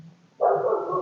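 A dog gives one sudden loud bark that holds for a moment after a quiet start, close and clear, with no speech around it.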